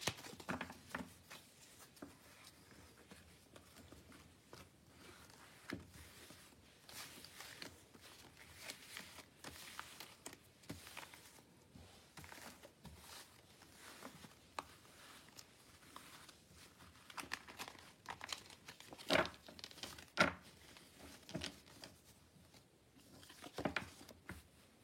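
A deck of tarot cards is shuffled by hand, giving soft, continuous papery patter and riffling with a few sharper slaps, faint and close, with no talking.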